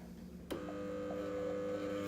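A sewing machine running a zigzag stitch on the inside seam of a cushion cover starts abruptly and settles into a steady mechanical whir with faint periodic ticks, close and alone.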